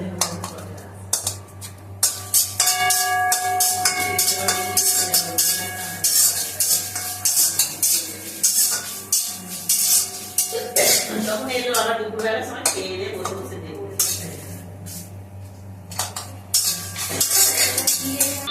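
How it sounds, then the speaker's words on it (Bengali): Dried red chillies and pickle spices fry in a pan amid clinks of a metal spoon against the pan, with stirring scrapes and a faint sizzle; music runs underneath and a voice speaks at times. "আচারের মশলা ভাজছে। প্রথমে লঙ্কাগুলো একটু ভেজে নিচ্ছি"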